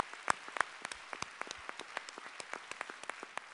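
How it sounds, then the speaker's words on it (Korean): A church congregation at a winter revival meeting gives sparse, scattered applause, individual claps spread unevenly across a few seconds, faint and thin rather than a full ovation. "우리 하나님께 감사와 영광의 박수를 올려드리겠습니다."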